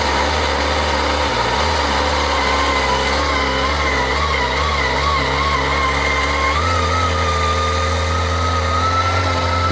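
Kawasaki ZX-25R motorcycle engine running steadily at high revs around 5000 rpm, a continuous near, loud whining drone with a slight pitch shift partway through.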